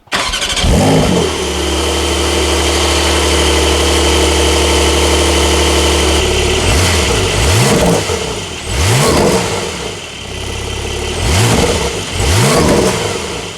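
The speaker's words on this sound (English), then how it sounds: "it comes with this little bit throatier exhaust" A 2021 Porsche 992 Turbo S engine idles with a deep, throaty exhaust rumble, then revs sharply several times in quick succession, loud and close.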